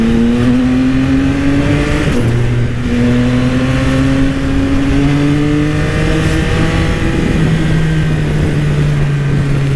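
A Yamaha XSR900 motorcycle accelerates hard through several gears, its engine note climbing in pitch, dropping briefly at each shift, then rising again, loud and close with a wind rush behind it.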